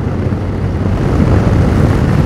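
A steady, loud Yamaha Tracer 7 motorcycle CP2 twin-cylinder engine drone with a low rumble, holding fairly constant throughout with no voices.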